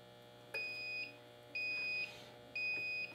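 A vacuum sealer sounds three short electronic beeps in an even rhythm, each lasting about half a second, clear and close in a quiet room.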